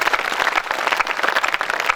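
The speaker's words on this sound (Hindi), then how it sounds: "एक बार तालियां बजाएं ताकि आदेश शुरू हो जाए।" Audience at a night poetry recital gathering claps steadily, a dense, loud burst of many hands with no voices over it.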